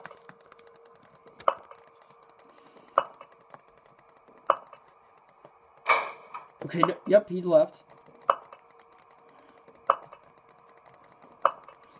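A computer mouse clicks in sharp single taps at an even, slow pace, about one every second and a half, close and crisp; a person speaks briefly midway between the clicks.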